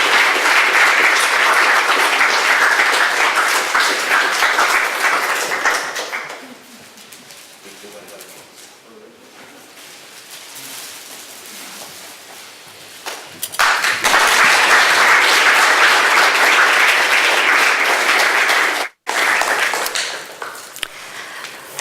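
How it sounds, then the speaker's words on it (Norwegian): Loud applause from an audience at a Sámi guides tenth anniversary event, swelling for several seconds, fading to a murmur, then returning strongly in a second long burst. "Ja, en liten applaus."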